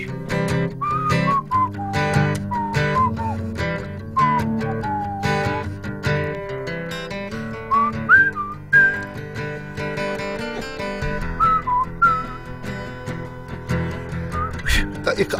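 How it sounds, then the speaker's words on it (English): Someone whistles a wavering melody in short phrases over background music, breaking off at points as if laughing, with voices heard alongside. "I can't whistle and laugh at the same time."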